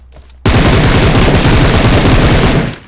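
Loud automatic gunfire from an enemy player in a battle royale game, a sudden dense burst of rapid shots after a quiet moment, holding steady for about two seconds before cutting off.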